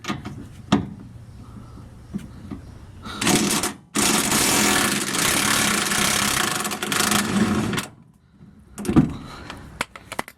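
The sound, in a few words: impact wrench removing front bumper bolts on Plymouth Duster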